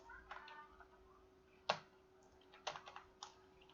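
Faint keystrokes on a computer keyboard while VBA code is typed, a few sparse clicks and a couple of sharper taps over a quiet steady hum.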